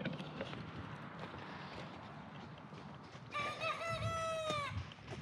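A chicken clucks softly in the background, then a rooster-style crow rings out clearly for about a second and a half, moderately near and louder than the surrounding ambient noise.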